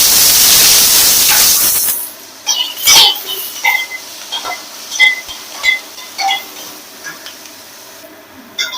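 Chopped onions dropped into hot white oil in a wok give a loud burst of hissing sizzle at first, then settle into softer, crackling spits and pops that continue steadily without talk.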